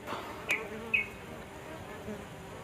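Honeybees buzz faintly around an opened beehive colony, a soft low hum with a couple of brief closer buzzes passing by.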